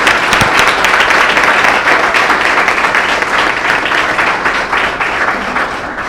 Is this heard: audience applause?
yes